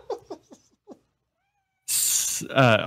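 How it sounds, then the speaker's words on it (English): A cat meows several times in short, close cries, followed by a pause and then a loud noisy burst with people talking. "There's a cat here yelling at you."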